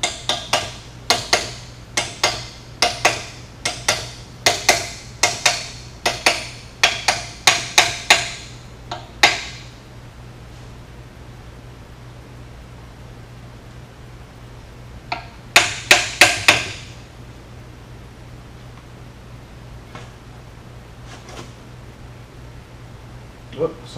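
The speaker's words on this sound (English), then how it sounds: "If not, I'll have to persuade it a little bit with my hammer." A brass hammer taps a crankshaft rod cap into place during an engine build, a quick run of sharp metallic knocks, then a pause and a second short cluster of taps.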